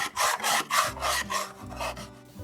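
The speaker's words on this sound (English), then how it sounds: "my next best friend is the scraper blade" A scraper blade drawn across solid pine stair treads, producing close, rhythmic rasping strokes, about eight in quick succession, with no speech.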